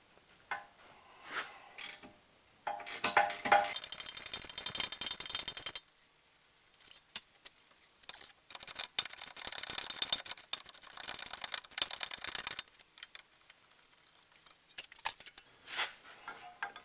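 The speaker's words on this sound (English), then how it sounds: "I'm going to pull the two 15mm bracket bolts out of here." Ratchet loosening the 15mm rear brake caliper bracket bolts on a Ford Flex, with bursts of rapid clicking separated by quiet gaps and occasional metallic clinks, close by.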